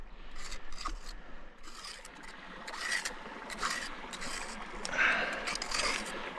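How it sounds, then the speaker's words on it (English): A small crevicing tool scrapes and rasps against a rock crevice while someone prospects for gold at Mitchell's Creek, New South Wales, with repeated gritty strokes outdoors. "The beauty of these is you can pull out the thin parts, scrape it in to where I can get it."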